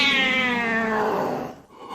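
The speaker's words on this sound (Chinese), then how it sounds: "比如房顶那只灰色野猫，老夫一耳便能听出它是只公的。" A gray tomcat on a rooftop gives one long, loud meow that slides downward and fades, heard close and alone with no talking.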